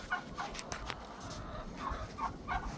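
Backyard chickens being let out into their outdoor run on a cold winter day give scattered clucks and short squawks at moderate distance, some louder calls standing out over a quiet background.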